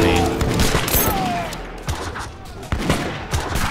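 Ragged volleys of musket fire crackle in Age of Empires 3 Definitive Edition, with several sharp bursts and scattered shots spread across a few seconds, loud and close, alongside other battle noise.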